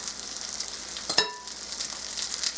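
Lentil burger patties fry in oil in a skillet, a dense, even sizzle throughout with one brief clink near the middle, close and continuous with no talking.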